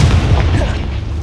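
A deep, muffled boom from the Confringo spell exploding in the Hogwarts Legacy video game, a loud low rumble that sustains briefly and fades, with no voices over it.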